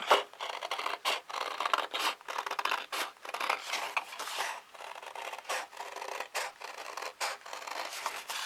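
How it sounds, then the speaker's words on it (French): Scissors cutting around a circle, likely paper, with repeated snipping and scraping strokes in a steady irregular rhythm, close and fairly loud with no talk. "on coupe tout en rond"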